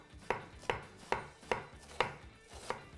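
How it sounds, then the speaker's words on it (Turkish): A knife finely chops iceberg lettuce on a board, six crisp, evenly spaced cuts at a slow steady pace, close and fairly quiet, with no talking. "Dediğim gibi bunu da şöyle ince ince doğrayacağım."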